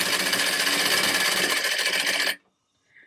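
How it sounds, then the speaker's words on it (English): A fast sewing machine runs steadily while stitching a shirt hem, a loud, close, continuous whirring buzz that stops abruptly, leaving near silence. "my machine is very fast and I'm used to going fast."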